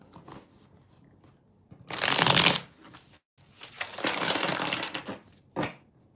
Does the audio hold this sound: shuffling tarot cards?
yes